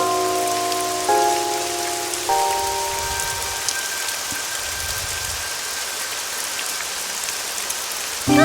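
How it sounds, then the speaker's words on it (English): Rain falling in the video game AI: Somnium Files, a continuous hiss of drops pattering on surfaces, heard alone behind a few steady synth tones that fade in and out. "It's raining."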